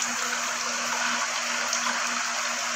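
Water running steadily through a mineral water filter machine, a continuous broadband rush with a faint steady hum beneath, close and even throughout with no voices.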